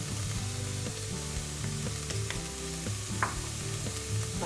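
Garam masala, turmeric and pepper toast with softened onion in a pan for a vegan green bean curry, giving a steady close sizzle with scattered scraping taps of a spoon stirring, no voices.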